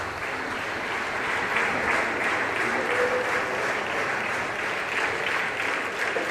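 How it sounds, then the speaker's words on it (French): Audience at the Comédie Française theatre applauding steadily throughout, a dense, sustained wash of many hands clapping at even loudness with no talk over it. "Ils applaudissent."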